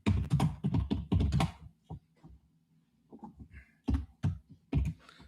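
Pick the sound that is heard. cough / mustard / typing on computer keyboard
typing on computer keyboard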